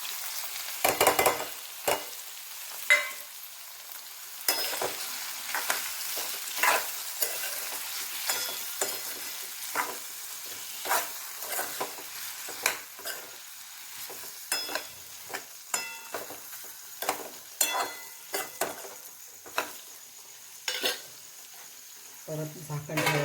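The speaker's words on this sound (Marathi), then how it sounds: "थोडे हलवून घेऊ." Stuffed brinjal (eggplant) masala, village style, being stirred in a frying pan: a steady sizzle with repeated scraping and clinking strokes of the spoon against the pan, close and clear, with no talking.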